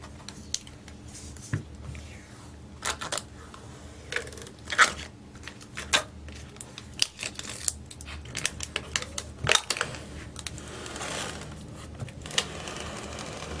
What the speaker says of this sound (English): Lots of plastic on the back here as well. So I'm going to go ahead and peel that off.